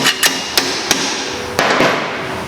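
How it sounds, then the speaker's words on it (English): A hammer taps a nut to drive a bolt out on a BMW E36 build: about six sharp, ringing metallic strikes at an uneven pace, close and loud over a steady background hiss. "tap on the nut, the bolt, come right out of there"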